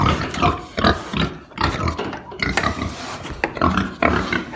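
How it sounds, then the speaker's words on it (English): Pigs in a pen grunt and oink repeatedly in close, loud, irregular bursts, several animals snorting over one another with no talk. "Hello, pigs."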